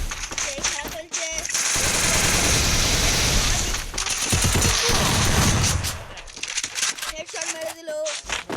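Loud, sustained machine gun bursts from a shooting video game, long rattling volleys with brief gaps, while a voice talks over parts of the action.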